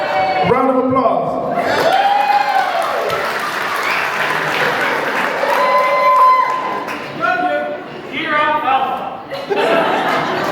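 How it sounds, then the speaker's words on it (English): Applause with chuckles rises from the crowd at a sweet sixteen birthday party, steady clapping running throughout under a speaking voice and laughter. "Round of applause."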